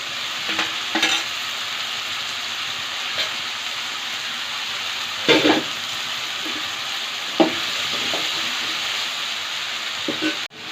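Drumstick pieces sizzle in a pan of hot oil, a constant hissing fry broken by a few scraping stirs of a spoon against the pan.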